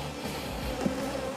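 Honey bees buzz steadily over five frames of brood in a hive being split for swarm control, a close, continuous drone with no talk.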